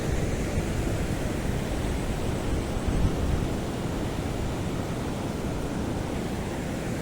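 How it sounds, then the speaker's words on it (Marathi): Floodwater after heavy monsoon rain rushing across a washed-out road near an overflowing dam, a continuous loud broadband roar with no breaks and no voices. "भयानक असं पाणी चाललंय"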